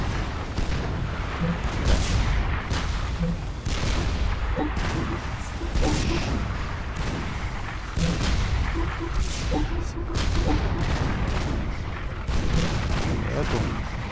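Artillery firing in the strategy video game Supreme Commander, repeated booming shots and explosions at a steady cadence across the whole stretch, with someone talking over the battle.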